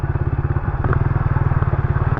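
Two motorcycles ride along a rough, poor road, their engines giving a loud, steady pulsing rumble close by with some rattling clatter and no talk over it.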